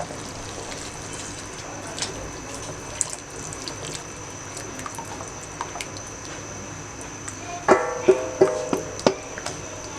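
A flour-water mixture trickles and splashes into a pot in a few quick pours near the end, after a stretch of quiet bubbling and faint kitchen background while cooking beef nehari.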